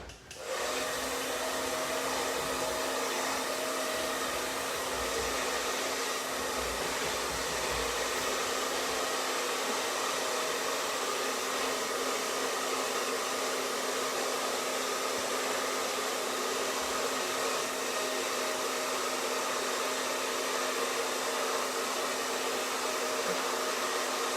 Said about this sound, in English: It's a big difference when you've got a hairdryer to use